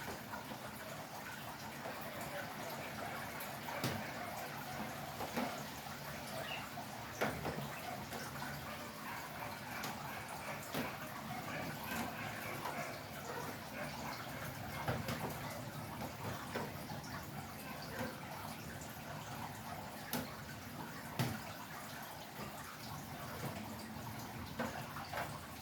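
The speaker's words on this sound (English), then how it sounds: "add a little water" Water is added in small amounts to freshly extracted snail slime, a soft wet splashing and trickling over a steady background hiss, with a few brief clicks and taps scattered through.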